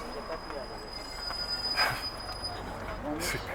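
A metro train runs through an underground station, its wheels squealing in a high steady whine beneath a rumbling background, with faint voices mixed into the noise.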